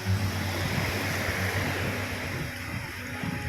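Surf rolls steadily onto Jomtien Beach in Pattaya at low tide, a continuous broad wash of breaking waves with some wind noise over the microphone and no voices.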